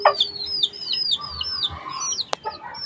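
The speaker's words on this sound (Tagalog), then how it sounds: "nakanta lang yung mga manok ko dito" Chickens, including Texas and pure labuyo gamefowl, cluck and chirp in a quick repeated series close by, with a sharp click partway through and faint lower sounds underneath.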